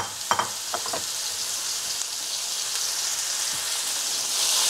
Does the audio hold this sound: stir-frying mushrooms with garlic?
yes